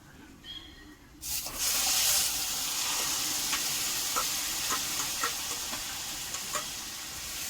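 Onion, garlic, ginger and chili paste hitting hot oil with cumin for a bhetki fish head curry, a sudden loud sizzle that settles into steady frying with occasional stirring scrapes, close, after a brief quiet start.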